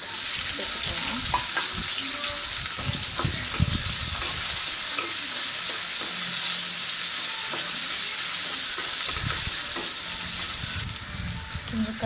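Chopped onion and capsicum frying in hot oil for a capsicum gravy, a loud, steady sizzle with a few stirring clatters, heard without talk.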